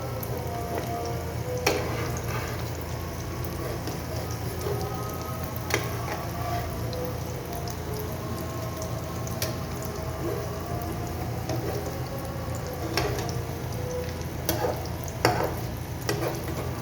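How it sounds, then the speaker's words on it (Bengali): Eggs frying in a pan make a steady, close sizzle that continues without a break, with a few light clicks and stirring taps now and then. Nobody speaks. "ডিম ভাজা সহজ পদ্ধতি"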